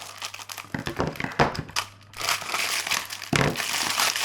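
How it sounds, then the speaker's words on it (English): Crinkly plastic packaging from craft shopping items rustling and crackling in close, uneven bursts while being handled, loud near the microphone. "sorry about the rustling"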